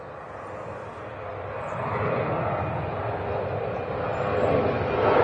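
A Ryanair Boeing 737 takes off at Manchester Airport, its jet engine roar building steadily and growing louder as it climbs away, with no voices heard.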